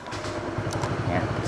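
A Honda PCX 160 scooter engine catches and settles into a low, steady putter, faint and close, with a voice over it.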